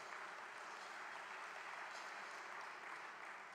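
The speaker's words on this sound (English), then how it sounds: "please give us a big round of applause for that" A large audience at a Rotary International presidential conference in Hyderabad claps steadily, a fairly distant, even wash of applause with no voices on top.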